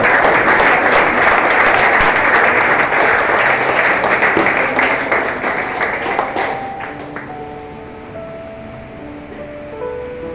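A church congregation bursts into loud, dense applause that holds steady and then fades over the last few seconds, leaving a soft sustained musical tone in the background.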